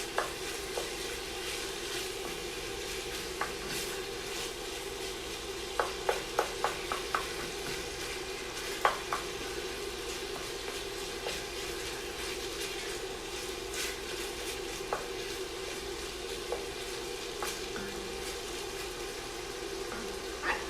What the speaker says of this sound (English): When I add this ground beef, it's going to get all the extra little bits of caramelization that's at the bottom of our pan up.